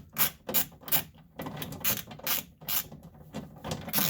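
A 10mm socket ratchets window regulator screws tight inside a Honda Fit door, producing a series of short rasping clicks in quick irregular bursts, close and fairly quiet.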